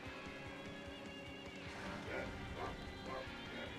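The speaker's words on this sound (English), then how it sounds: "There's a robot dog." Robot dog in the kart racing game Crash Tag Team Racing giving a few short, bark-like yips near the end, faint and partly masked by game music and engine noise.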